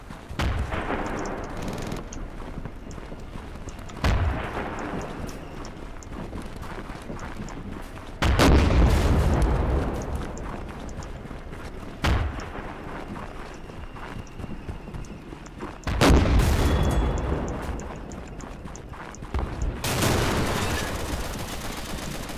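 Gunfire in Darkest Hour: Europe '44-'45 during a squad attack on Wanne: heavy, close shots burst out every few seconds, each a booming crack with a rumbling tail, over a constant backdrop of distant battle noise.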